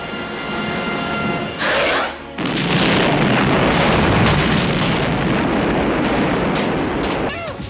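A grenade blast from the film Aliens lands as a loud, sustained roaring boom that fills the scene for several seconds, with a brief burst leading into the main explosion.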